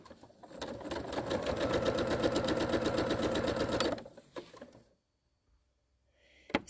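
Sewing machine running a quarter-inch seam through fabric in a steady rapid stitching burst of about three and a half seconds, close and loud, then stopping with a few small clicks.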